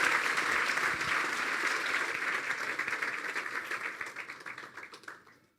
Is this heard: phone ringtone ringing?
no